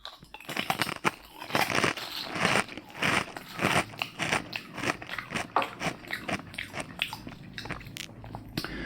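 Close, crisp crunching and biting on Bugles corn snacks, a steady run of sharp brittle snaps and chewing with no talk.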